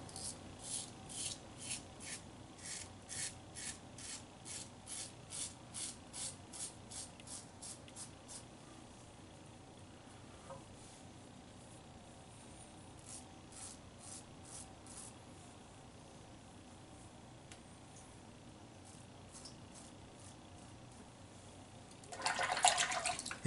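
A traditional safety razor drawn through Noxzema shaving cream makes soft, rhythmic scraping strokes, quick and regular at first, then sparser and quieter, with a brief rush of running water near the end.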